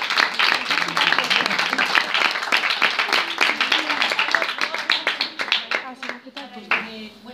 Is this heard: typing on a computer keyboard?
no